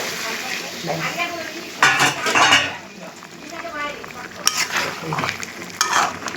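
Meat is stir-fried as kosha in a pot with a little water: a spoon scrapes and clanks against the metal in bursts over a soft, steady sizzle, with occasional sharper knocks.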